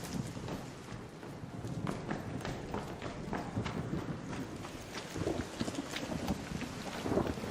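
A thunderstorm with steady rain and rolling thunder rumbles through an electromagnetic storm in the video game Arc Raiders, a continuous dense wash of rain with low booming swells, fairly loud throughout.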